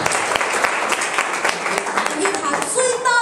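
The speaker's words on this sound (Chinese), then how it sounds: "我们再次给 Bio 一个热烈的掌声" Live audience applause at a skincare sharing event, a dense continuous wash of clapping that stays loud and steady throughout, with crowd voices mixed in.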